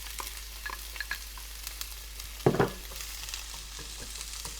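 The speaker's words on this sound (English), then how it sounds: "Put those onions in. Always hear that sizzle." Onions sizzle in a hot pan while making chili, a steady crackling hiss with a brief louder burst of spitting midway, no talking.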